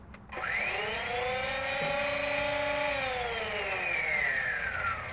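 Flywheels of a modded Worker Swordfish Stryfe foam dart blaster spin up slowly, a rising electric whine that climbs in pitch over a few seconds and then holds and sags slightly, heard close and alone.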